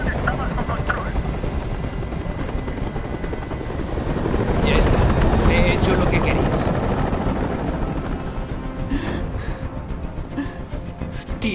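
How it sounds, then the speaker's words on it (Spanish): A helicopter's rotor in the video game Detroit: Become Human thuds and whirs steadily, swelling louder in the middle before easing off, with faint clicks and bursts scattered over the drone. "¡No aguanto ese ruido! ¡Dile a ese helicóptero que se vaya de aquí!"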